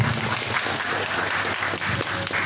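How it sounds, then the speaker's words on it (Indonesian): Participants at a talk show applaud together in a room, a dense, steady burst of clapping that lasts for a couple of seconds with faint voices under it. "tepuk tangan dulu dong teman-teman peserta ini"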